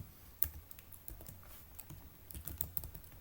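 Fingers type C code on a computer keyboard, a quick, irregular run of close, crisp key clicks with no talking.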